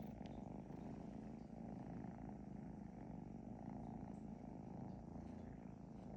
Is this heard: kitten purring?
yes